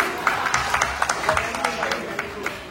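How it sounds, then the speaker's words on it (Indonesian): An audience at a political campaign rally claps in scattered, sharp bursts amid crowd noise, with voices talking over the applause throughout. "Tepuk tangan dong buat kita."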